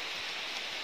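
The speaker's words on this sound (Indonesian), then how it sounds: "Hari udah hujan guys." Rain falling outdoors in Lampung, a steady dense hiss of drops, close and continuous, with no voices over it.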